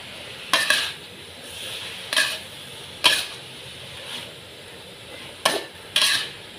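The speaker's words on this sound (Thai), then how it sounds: "ผัดค่ะผัดให้เข้ากันเลยค่ะ" A sweet and sour dish is stir-fried in a pan: a low sizzle runs throughout, broken by six sharp metallic scrapes and clanks of the spatula at irregular intervals, close and fairly loud.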